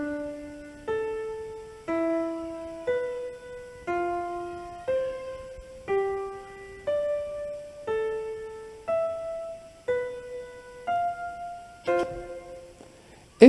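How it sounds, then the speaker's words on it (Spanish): Paired notes sound together as perfect fifths, each a clean, sustained tone struck about once per second in a steady sequence of roughly a dozen intervals, decaying between strikes, alone with no talking. "Ese es el sonido de una quinta perfecta."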